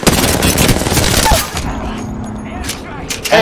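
Gunfire in an Apex Legends match, rapid automatic bursts and cracks, loud and close, with a player's voice talking over parts of it.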